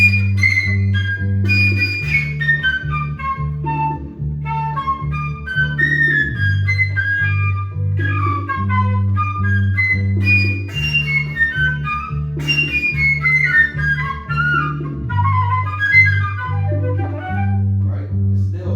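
An improvised solo with high altissimo runs, played over a repeating two-chord salsa backing pattern. The lines move in quick phrases above a steady bass vamp, loud and continuous throughout.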